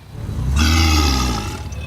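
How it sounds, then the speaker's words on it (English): Crocodiles during a feeding frenzy let out a deep, rumbling roar that swells and fades over a couple of seconds, loud and close with no talking. "Sounds like a pack of dinosaurs, Coyote."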